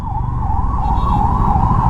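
An ambulance siren wails steadily and loudly through a traffic jam on an early morning motorcycle ride, its wavering tone held for the whole stretch over a low rumble of engines.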